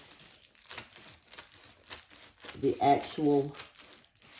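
Brown paper being cut with scissors around a template for DIY car window coverings, heard as close, irregular snips and crinkles that grow louder toward the middle, with a voice speaking briefly.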